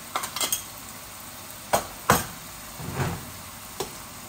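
Cumin and other spices are stirred in a frying pan, giving a quiet sizzle broken by a few sharp utensil scrapes and clinks against the pan.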